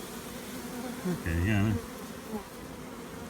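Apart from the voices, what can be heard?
honey bees buzzing at an open hive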